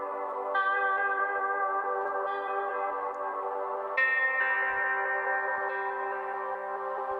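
A sampled guitar plays sustained chords that ring out drenched in reverb and chorus, a shimmering, washy tone with new strums entering every couple of seconds.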